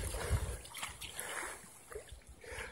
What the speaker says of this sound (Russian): Это снег тает, вода течет.